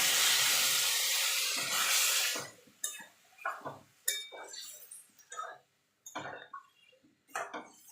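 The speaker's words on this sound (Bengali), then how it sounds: "এবার জল দিয়ে দেবো খুব বেশি জল দেওয়ার দরকার নেই" Water poured into spice paste frying in a pan for a vegetarian pumpkin and potato curry gives a loud, steady rush of sizzling steam for about two seconds, followed by scattered spoon and pot clinks as the hiss dies down.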